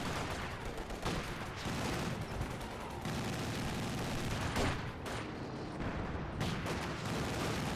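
Dense, continuous gunfire from an MG34 machine gun in Company of Heroes 2, steady bursts with scattered louder cracks layered over ongoing battlefield noise, with no voices.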